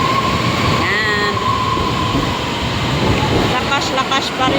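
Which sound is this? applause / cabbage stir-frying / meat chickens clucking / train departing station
train departing station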